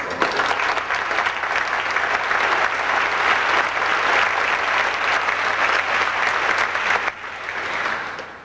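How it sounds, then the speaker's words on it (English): An audience applauding at a Presidential Scholars Program event, dense sustained clapping from a large crowd that holds steady for about seven seconds before thinning out. "Let's give Linda a round of applause."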